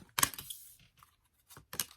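Tarot cards being pulled from a deck make quick papery rustles and scrapes in a few short, crisp bursts separated by brief quiet gaps, with no talking.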